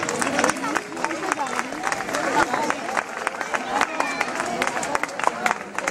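A crowd claps for runners at a 10K race awards ceremony in the streets of La Aparecida, with scattered uneven clapping and sharp individual claps over background chatter and an announcer's voice.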